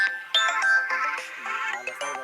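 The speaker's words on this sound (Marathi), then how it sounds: "साहेबांचा फोन" A melodic electronic phone ringtone plays loud and close, a bright tune of repeating tones for a couple of seconds.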